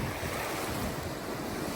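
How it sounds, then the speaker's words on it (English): Ocean surf breaks hard along the coastline at Sabang, Palawan, in the Philippines, a constant broadband wash with wind noise buffeting the microphone, no voices. "It's kind of funny how the ocean really breaks hard out there."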